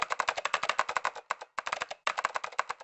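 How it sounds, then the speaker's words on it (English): Rapid keyboard typing from the Zero Escape game, a dense burst of crisp key clicks in quick rhythmic runs, broken by two short pauses, close and clear with no talk. "You're typing so fast"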